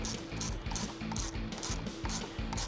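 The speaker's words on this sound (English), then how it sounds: "tighten up our hose clamp." An 8mm ratchet tightens a hose clamp on the air intake of a 5.7L/6.4L HEMI Dodge Charger. It makes a rapid series of close, crisp clicks in a steady back-and-forth rhythm, with no voices.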